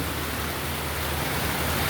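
A steady, even hiss of rain pours down continuously, broad and enveloping with no voices or other distinct sounds.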